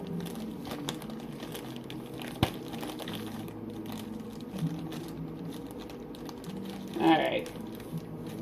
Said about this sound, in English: So, got the marshmallows open